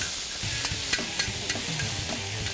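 Blackened flank steak sizzles on a FireDisc grill, a steady close hiss of searing meat broken by a few sharp pops and crackles, with no talking.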